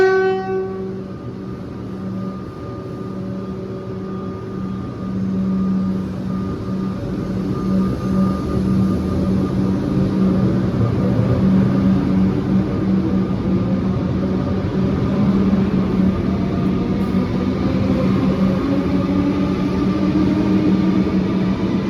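A Melbourne metro train on the Sunbury line rolls through St Albans station, rising from a rumble into a loud, steady roar as it passes close by, with a sustained horn-like tone over the wheels.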